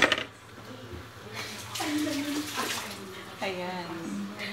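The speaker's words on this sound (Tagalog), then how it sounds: "Unti-unti na po ang tumukulo." Eggs boil in a pot of water with a soft, irregular bubbling and sloshing, under several people chatting nearby.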